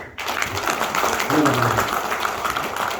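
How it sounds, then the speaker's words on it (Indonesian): An audience at a business event applauds BSD with continuous clapping across the whole stretch. A voice is audible under and over the clapping. "Beri aplaus untuk BSD."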